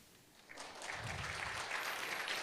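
Church congregation clapping at a night prayer meeting, starting after a quiet half second and building into steady, moderately faint applause that continues to the end.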